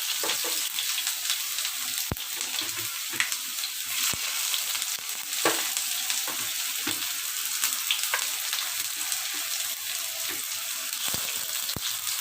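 Onions fry in a little oil in a pan, giving a loud, continuous close sizzle broken by occasional sharp clicks and stirring knocks.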